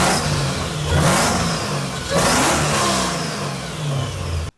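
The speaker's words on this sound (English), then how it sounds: "I just gave it a couple revs." A car fitted with a new cold air intake revs twice in loud, rising surges, each climbing and falling back toward idle, close to the microphone with no talking.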